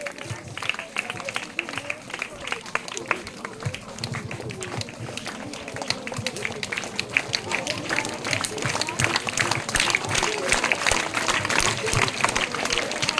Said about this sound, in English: Give them huge round of applause for them.